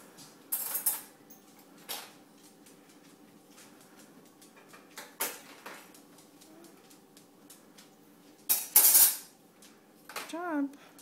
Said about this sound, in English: putting away the dishes